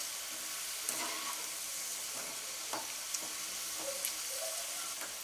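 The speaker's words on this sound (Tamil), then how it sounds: "ஸோ நமக்கு அந்த சலசலப்பு இருக்கு இல்லையா" Taro root (cheppankizhangu) frying in hot oil gives a steady, dense sizzle with a few faint crackles and pops scattered through it, close and continuous, with no voices.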